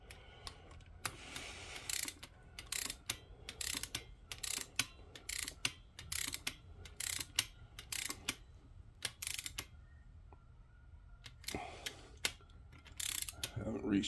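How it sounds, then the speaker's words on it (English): A torque wrench clicks at its set torque during a WaveRunner XL800 GP800 top-end rebuild, giving many sharp close ratcheting clicks in irregular bursts, faint and with no talk. "There's the click. You just wait for it. The wrench just kind of gives when it gets to the torque you've set it at."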